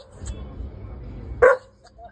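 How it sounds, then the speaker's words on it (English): A dog gives a single sharp bark with a little yip near the end, close and short, over low background noise. "That's their special bark with a little yip on it."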